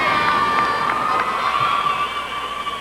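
A large arena crowd cheers and whistles steadily after a women's figure skating performance at the 1994 U.S. Championships, a dense, loud roar sustained throughout without speech.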